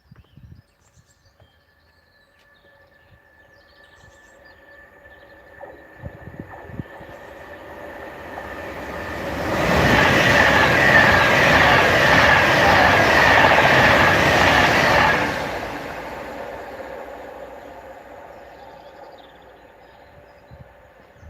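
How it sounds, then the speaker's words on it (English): A Pendolino passenger train on the West Coast Main Line north of Crewe builds from a distant rumble to a loud, close rush over several seconds, then fades away, with steady wheel and rail noise throughout. "So here comes the Pendolino."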